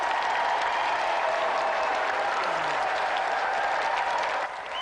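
Studio audience at a television gaming show gives dense, sustained applause for the band, loud and continuous with crowd noise mixed in, fading slightly right at the end.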